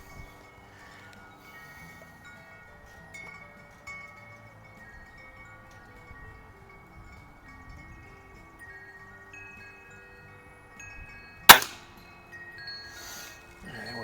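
A single sharp shot from a Weihrauch HW-50S spring-piston air rifle fired in a backyard while plinking, a brief crack standing out against a quiet, steady outdoor background hum.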